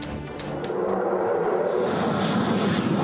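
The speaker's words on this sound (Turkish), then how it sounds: "Vakit sabaha karşı jetler havada." Military jets fly in the pre-dawn sky during an operation near the Iraqi border, a loud, steady roar of aircraft engines with a broad rumble that holds throughout.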